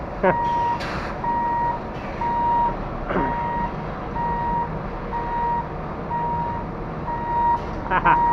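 A 22-wheel truck backs up while its reversing alarm beeps steadily and repeatedly over a constant engine rumble, with people talking nearby.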